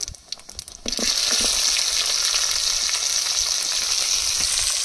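Chopped onion and five or six whole garlic cloves hit hot oil in a pan, a sudden loud sizzle after a brief quiet start that then holds steady and close.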